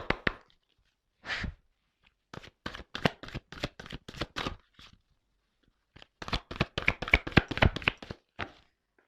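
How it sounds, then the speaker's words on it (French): Large, hand-sized tarot cards are shuffled in quick bursts of crisp flicking snaps, a couple of short runs broken by brief pauses, close up and without speech. "les cartes, elles sont très grandes. Elles font presque la taille de ma main. Alors, c'est pas simple des fois pour les secouer"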